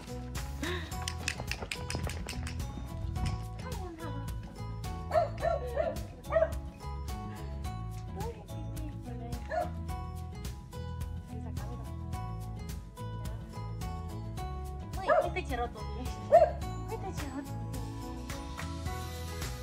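A dog yips and barks in short, scattered bursts with whimpers in between, fairly close and moderately loud over a faint background.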